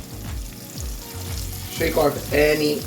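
Flour-coated quail sizzle and crackle loudly in a pan of hot oil over medium-high heat, a close, busy frying sound with a few stirring scrapes and no talk.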